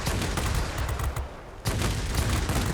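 Sustained machine gun fire from an enemy tail gunner in the World of Warplanes aerial combat game, dense rapid bursts that briefly stop for a moment before resuming, loud and close with no talking.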